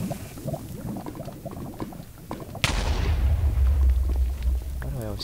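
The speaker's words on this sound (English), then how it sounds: "Those have huge, huge-ass explosions, you know." Fireworks bursting after being lit, a sharp blast followed by sustained loud crackling and rumbling, with people talking before the explosion.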